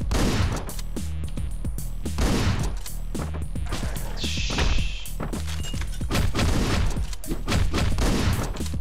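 Rapid bursts of gunfire from the video game Hotline Miami, a dense run of sharp, punchy shots and impacts continuing almost without pause, loud and close.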